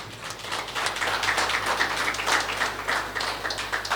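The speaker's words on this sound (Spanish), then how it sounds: "Fuerte aplausos, Iglesia de Cristo." A church congregation applauds together in a dense, steady patter of many hands clapping, filling the room at an even level throughout.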